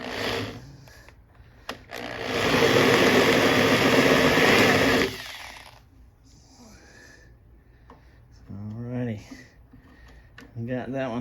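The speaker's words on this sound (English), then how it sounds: "I'm going to change to my carbide bit here. And chamfer that hole." A drill with a carbide bit chamfers a hole during double bass setup work, giving a loud, steady whirring burst of about three seconds, followed by quieter handling noises and a voice speaking.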